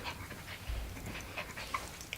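Small dog panting quickly and snuffling while playing up close, with soft whimpers and faint yips over a low rumble of handling noise.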